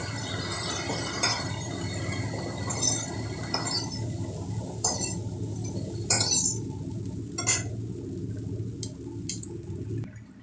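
Fried potato and eggplant are lifted out of a kadai, with a series of sharp metallic clinks and scrapes of the utensil against the pan over a low kitchen hiss.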